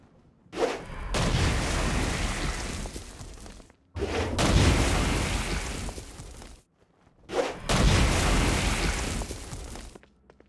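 Three heavy Stone Blast power blasts from Saints Row: Gat Out of Hell, each a loud booming roar lasting a couple of seconds, separated by short silences.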